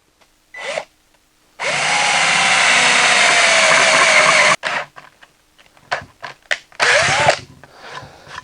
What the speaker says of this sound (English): I am going to drill a hole in it, right in the center